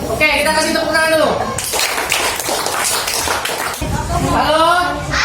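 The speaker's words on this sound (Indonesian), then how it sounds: "kita kasih tepuk tangan dulu." A classroom of students claps for a group presentation, a loud burst of clapping in the middle with voices talking over it before and after.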